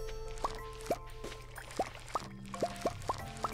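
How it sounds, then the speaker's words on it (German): Soft water plops and drips as pumpkins are watered with a watering can in the farming game Stardew Valley, a string of about nine short splashes at uneven intervals over quiet background music. "ich werde nur die Kürbisse gießen"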